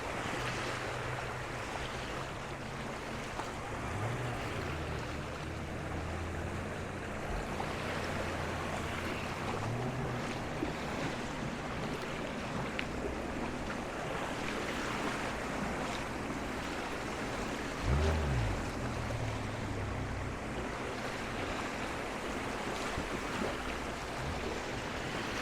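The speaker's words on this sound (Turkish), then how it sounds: "Umarım dalga sesleri rahatsız etmez sizi." Sea waves wash onto the beach near moored boats at Koh Larn, Pattaya, Thailand, a steady surf with wind buffeting the microphone and a low boat engine drone underneath, no talking.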